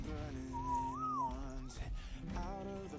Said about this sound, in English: Do you want to whistle?